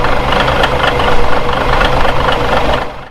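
A CAT 1693 diesel engine running with a loud, dense mechanical rattle and a constant clicking from its mechanical valve train and fuel injection, steady and close for a few seconds before fading at the end.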